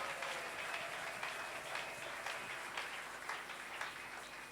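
A church congregation claps and cheers for Jesus at a worship service, a dense, continuous wash of applause filling the room at steady loudness throughout.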